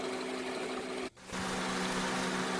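A Honda car engine idles with the AC compressor running, a close, steady mechanical hum that drops out for a moment and then resumes at a slightly lower pitch.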